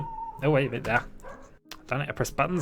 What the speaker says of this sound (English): that's my dog shouting